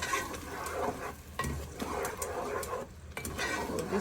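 Crayfish, onions and chili pepper mix frying in hot palm oil for jollof rice, a loud close sizzle with a spoon stirring and scraping the pot in irregular strokes.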